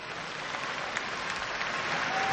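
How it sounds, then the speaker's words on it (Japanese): Warm audience applause fills a boxing arena after a WBC world bantamweight title fight in Japan, a steady, fairly faint wash of clapping with no voices over it. "さあ今温かい拍手をしてくださっている皆さん"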